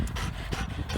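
A female dog pants hard after playing fetch: quick, breathy, rhythmic huffs close by, steady and fairly loud, with no talking.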